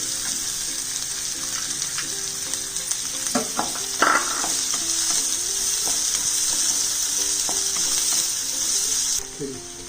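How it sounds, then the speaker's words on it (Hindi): Chopped onion frying in a pan until light brown, with garlic added, gives a steady close hiss of sizzling, broken by a few sharp stirring clanks and scrapes near the middle before the sizzle settles again. "ਕੱਟਿਆ ਹੋਇਆ ਇੱਕ ਪਿਆਜ਼ ਪਿਆਜ਼ ਨੂੰ ਥੋੜਾ ਜਿਹਾ ਹਲਕਾ ਬਰਾਊਨ ਕਰ ਲਾਂਗੇ ਲਸਣ ਵੀ ਪਾ ਦੇਣੀ"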